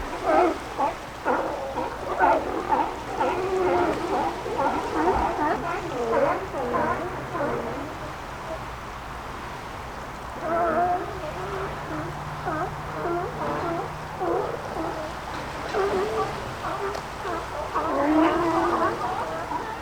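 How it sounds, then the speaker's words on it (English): Sea lions crowded on a barge near a campsite bark and groan in overlapping, irregular calls, a steady noisy chorus at moderate distance with faint background noise. "with those sea lion making a lot of noise, I have neighbors"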